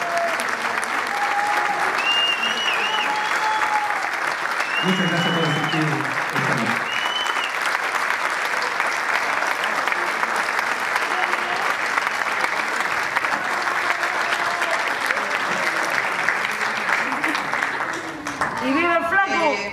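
Theatre audience applauds warmly after a choir and orchestra performance, long continuous clapping filling the hall, with someone speaking briefly over it at the start.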